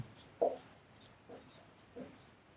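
Chalk or marker strokes on a classroom board during a number-system lecture, a few short faint scratchy bursts at an irregular pace in a quiet room with no talk.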